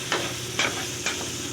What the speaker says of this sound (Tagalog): Haluin lang natin, haluin